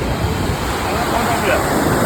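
Ocean waves wash onto Marina Beach in Chennai as a steady, broad, unbroken surf roar mixed with wind buffeting the microphone.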